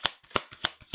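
Tarot cards being shuffled, four crisp riffling bursts at an even pace, close and clear with no talking.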